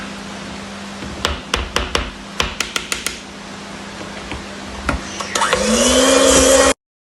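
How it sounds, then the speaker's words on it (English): Electric hand mixer beating butter for American buttercream on medium speed, starting with scattered clicks and taps of scraping, then a steady loud whirring drone running through the final seconds before it stops abruptly. "So I'm going to be mixing my butter on medium speed."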